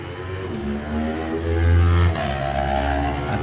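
A Kawasaki lightweight race motorcycle pulls away from the TT start line, its engine revving loud and close with a rising pitch, a brief surge near the middle, then holding high as it accelerates.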